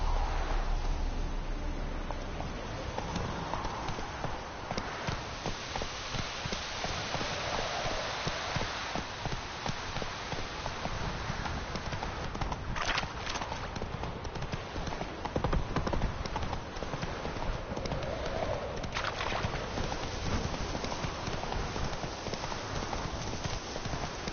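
Roach the horse trots with steady, rhythmic hoofbeats in The Witcher 3, a continuous clip-clop at moderate volume over ambient game background sound.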